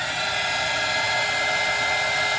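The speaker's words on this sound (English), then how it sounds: "I'm going to hit this a little bit with this heat gun." A heat gun drying paint on a doll, giving a steady loud blowing whir with a constant fan tone and no change throughout, with no speech.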